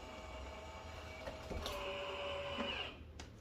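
An EV Rider AF+ electric folding mobility scooter unfolding on its own, giving off a faint, steady mechanical motor whir with small clicks and clunks as its frame moves into place, with no voices.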